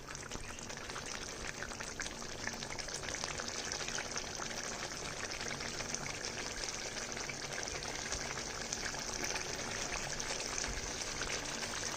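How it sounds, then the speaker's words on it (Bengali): Oil pours into a pan for a mustard dish as a soft, continuous, faint rushing stream with a light sizzle underneath. "এবারে একটু তেলটা ছাড়ো"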